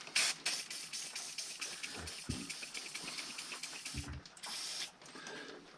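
A continuous hissing spray of WD-40 on a lawn mower carburetor lasting several seconds, steady and close, with a few brief low knocks partway through.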